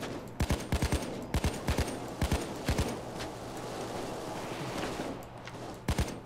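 Gunfire in the video game Payday 2: short bursts of sharp, loud shots, paired and clustered in quick doubles and triples, with pauses between bursts over a low background rumble.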